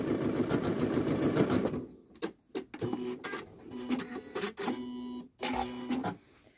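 A Janome sewing machine runs a blind hem stitch along the grain of fabric, a dense steady mechanical whir for about two seconds, then short start-stop bursts of stitching separated by pauses.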